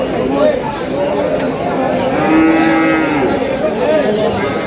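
Cattle mooing at a livestock market, a loud drawn-out moo close by amid a crowd of people talking and general market hubbub.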